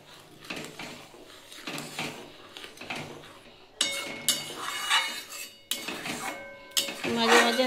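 A spoon stirs milk in a pot over a low flame for kheer, producing irregular metallic clanks, scrapes and clinks against the pot sides in bursts, close and moderately loud, with no talking.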